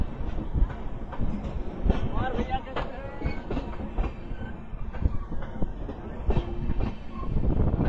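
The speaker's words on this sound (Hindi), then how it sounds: "बाकी पूरी ट्रेन को आ जाने दीजिए फिर बात करते हैं, दिखाता हूँ मैं आपको।" An Indian express train running with LHB coaches rolls in, producing a dense, continuous rumble with clickety-clack wheel beats and occasional squeals, close and loud, with faint voices in the background.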